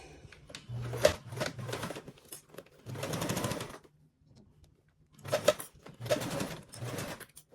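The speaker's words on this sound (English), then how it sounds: "we're going to go ahead and do the first set of stitches again at that 3/8 seam allowance" A sewing machine runs a seam at a 3/8 inch allowance in short, quiet bursts of rapid stitching, separated by brief silent pauses.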